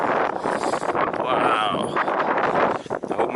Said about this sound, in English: It's blowing a gale up here